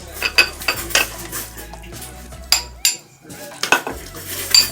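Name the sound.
dishes and cutlery clattering while plating chicken and rice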